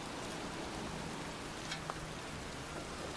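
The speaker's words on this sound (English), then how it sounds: "It's cold. It's raining. I'm standing outside getting soaked." Heavy rain pours steadily in a cemetery in the video game Heavy Rain, a dense, even hiss with no break and only a faint click or two above it.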